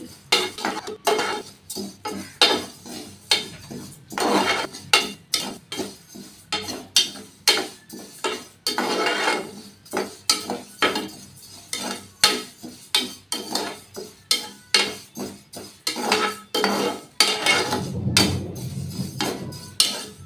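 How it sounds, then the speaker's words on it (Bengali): A pan is stirred continuously during frying for a fish-head mung dal dish: a rhythmic run of metallic spatula scrapes and clanks, close and distinct, with only a faint sizzle between strokes. "এটা কন্টিনিউ নাড়াতে হবে, না হলে তলা লাল হয়ে যাবে"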